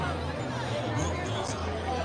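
Crowd chatter at the annual Christmas tree event at Liberty University: a steady hubbub of many overlapping voices outdoors, continuous and fairly dense, with a low hum beneath and no single voice standing out.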